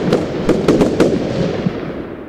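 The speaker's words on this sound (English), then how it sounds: "Are those all fireworks?" Fireworks go off in the Roblox game Lumber Tycoon 2, several loud sharp bangs popping in quick irregular succession with crackling decay trailing after.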